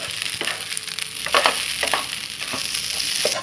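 Rice stir-fried with garlic in a pan over high heat for Thai chicken rice, a steady loud sizzle with scraping stir strokes and occasional clatter, no voices.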